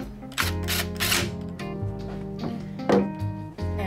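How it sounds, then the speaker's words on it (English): Small screw being driven back into the housing of a DeWalt DC385 cordless reciprocating saw after a switch replacement, with close mechanical ticks, clicks and a few rattling scrapes in short irregular bursts. "Replace that final little screw."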